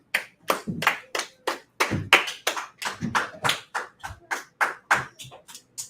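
Audience clapping in a class setting, with a steady run of crisp, separate claps in a fairly even rhythm, close and clear, with no talking.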